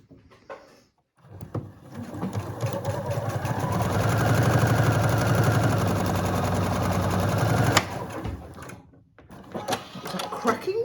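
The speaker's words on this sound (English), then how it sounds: "I'm going to stitch my 1/4 inch seam." A close sewing machine hums and rattles continuously for several seconds, stitching a quarter-inch seam in a patchwork quilt block, with brief handling noises before and after.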